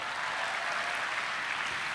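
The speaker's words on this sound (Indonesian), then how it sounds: "kasih tepuk tangan dulu dong untuk Jojo" Studio audience applauding a guest named Jojo on a Mata Najwa talk show, a steady dense wash of clapping that stays even and fairly distant for its whole two seconds.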